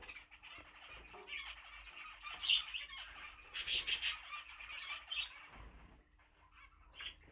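A show-team bird squawks and chirps in a few short, irregular bursts, faint and thin against a quiet background.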